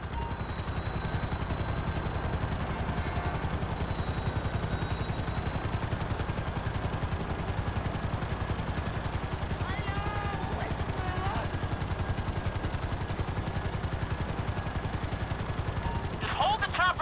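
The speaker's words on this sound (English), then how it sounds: "Just hold the chopper here." A hovering helicopter in Grand Theft Auto V chops steadily and loudly throughout, its rotor pulse continuous, with bursts of gunfire and voices talking over it.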